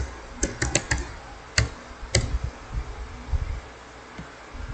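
Keys clatter on a computer keyboard in a few short bursts of close, crisp taps separated by pauses, with a faint steady hum behind and no talking.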